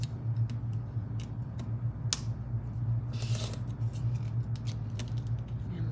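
Sharp, sparse clicks and a short cutting swish as a fabric quilt block is trimmed, with quiet ticking taps scattered across a low background hum.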